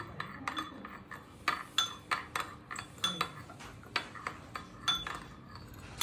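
Pizza dough ingredients being mixed in a bowl, a spoon striking the sides in a run of sharp clinks and taps at an uneven rhythm, close and clear, with no talk.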